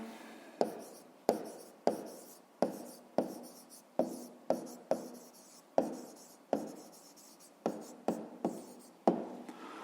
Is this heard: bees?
no